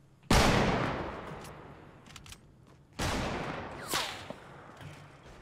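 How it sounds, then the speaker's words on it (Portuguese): Gunfire in Fortnite, two heavy blasts about three seconds apart, each followed by a long rumbling decay, with a few faint cracks and clicks between them. "Lipão, estão atirando você em cima da montanha"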